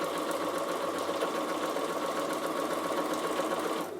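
A Bernina sewing machine runs steadily while stitching rows on a Christmas kitchen heat pad, its even mechanical whir close and continuous until it stops at the very end.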